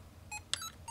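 Short electronic beeps from a Mario's Cement Factory Game & Watch tabletop handheld, three brief high chirps in quick succession, thin and quiet against faint background hiss.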